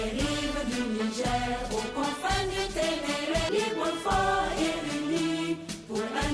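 A full band plays a national anthem with sustained brass and steady percussion, loud, stately and continuous, with no voices.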